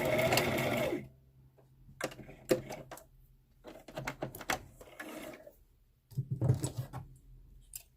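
A sewing machine back stitches along a face mask, rattling in quick bursts separated by short pauses, with a loud stretch at the start and another near the end.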